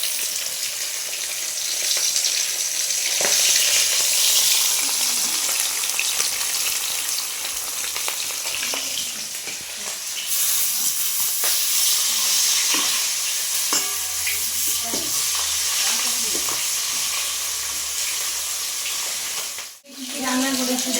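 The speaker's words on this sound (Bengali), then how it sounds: "মাছ ভাজতে ভাজতে বিরক্ত।" Fish frying in a pan of hot oil for a Pohela Boishakh meal, a loud, continuous close-up sizzle with occasional crackles and stirring scrapes, a voice speaking briefly over it, the hiss cutting out sharply near the end.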